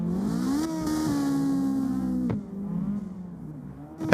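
A race car engine revs in a sim-racing drift game, a steady harmonic drone that rises in pitch, drops away and climbs again, loud and close throughout with no voices over it.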